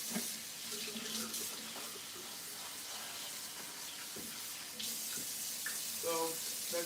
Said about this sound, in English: I rinsed them off earlier, but I'm going to rinse them again